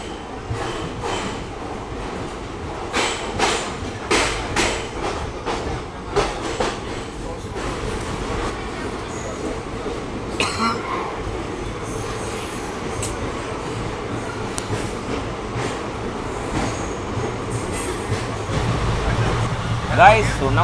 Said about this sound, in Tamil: ஸோ நம்மளோட ட்ரெயின் கிளம்ப போதுங்க.